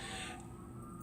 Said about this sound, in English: I apologize for the sirens in the distance.